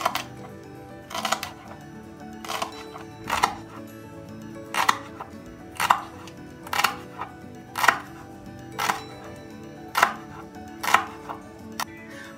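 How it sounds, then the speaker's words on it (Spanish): A knife chops celery very finely on a board in steady, evenly spaced taps, about a dozen crisp strikes at moderate volume with little else around. "vamos a empezar a cortar así, ¿no? Entonces, ahí nos va a quedar el apio cortado muy chiquito"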